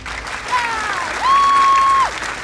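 A short applause sound effect: a loud, even burst of crowd clapping with a thin, sustained whistle tone rising over it near the end.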